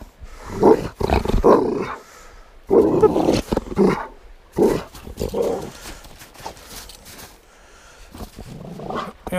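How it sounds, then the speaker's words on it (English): A pet dog growls in loud bursts while chewing a stick outdoors near a creek, the rumbling growls coming in several uneven bouts with short pauses between them. "You growl at me like a jerk."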